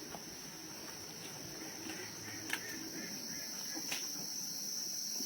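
Crickets chirp steadily at a cricket farm in the Lepang customary village of Klungkung, a dense, continuous high-pitched trill with a faint background and a couple of brief clicks, and no voices are heard.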